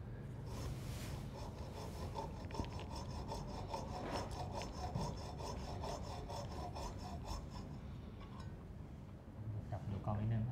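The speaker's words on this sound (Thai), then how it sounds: "เลื่อยทางขวาง" A hand saw rasping back and forth crosswise through wood in steady strokes, close by, with occasional clinks and background voices.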